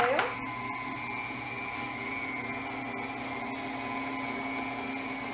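An electric hand mixer whirring through egg yolk and oil for an orange cake, a steady continuous motor whine starting after a brief rising spin-up, with a voice talking faintly over it.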